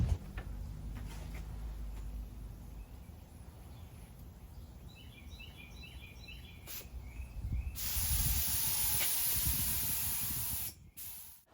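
Spray gun applying Rust-Oleum Red base coat thinned with reducer to a Honda Civic race car outdoors, a soft hiss at first that swells into a loud steady spray burst near the end, with faint birds in the background.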